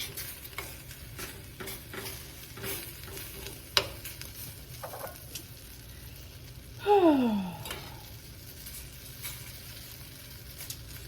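Food frying in a pan as it warms through, a low steady sizzle with scattered small clicks and taps, and a brief louder swoop of noise near the end.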